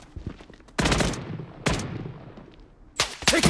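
Gunfire in the shooter Blood Strike: three loud, sharp bursts of shots separated by short pauses, each decaying quickly, with the final burst rapid and rattling.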